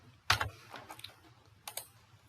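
Bangla is typed on a computer keyboard in a quiet room, giving a few soft, scattered keystroke clicks in small bursts close by.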